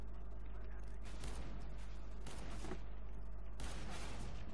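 Revolver gunfire in Counter-Strike: Global Offensive, several loud broadband shots in bursts against a steady low hum, with a voice talking among them.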